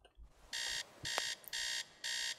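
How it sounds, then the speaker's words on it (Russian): An alarm clock rings in the video game Teardown, four even bursts of a loud electronic buzzing beep with short gaps between them, clear and close with no voices. "Как же надоел этот уже будильник."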